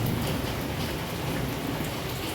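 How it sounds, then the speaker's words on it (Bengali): Heavy rain pours steadily outside during a thunderstorm, a dense, even hiss of falling water with no voices. "বাইরে তো খুব বৃষ্টি হচ্ছে"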